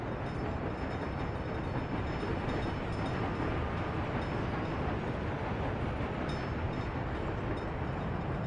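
Trains rumble steadily through a tropical colony-building video game, a dense continuous low roar of rolling rail cars with no break, no horn and no talk.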